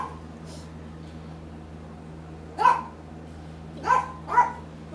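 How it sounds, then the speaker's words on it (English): A dog barks three times at a distance, one short bark followed by two close together, over a steady low hum with no talking. "My dog talking to her friends again."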